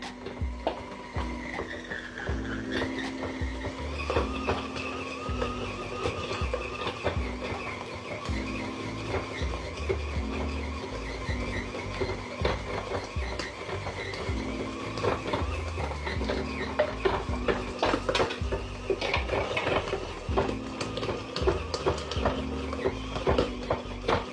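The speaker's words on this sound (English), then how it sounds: "Now this is an old mixer, but it still does the job." Old stand mixer kneading pizza dough, with a steady motor whine that wavers slightly in pitch and a rhythmic knocking from the dough hook, close and continuous throughout.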